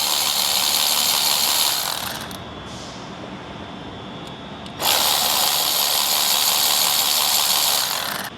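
A ratchet spins rapidly and loudly, loosening an 8 mm bolt on an intercooler tank on a 2025-2026 Ford Explorer ST. The whirring runs for about two seconds, pauses, then resumes in a second long burst.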